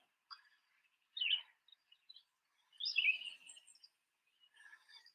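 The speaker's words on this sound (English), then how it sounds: "It's a bird sanctuary." Birds at a bird sanctuary give short scattered chirps and tweets, a few separate bursts with gaps of quiet between them, fairly close and clear against a silent background.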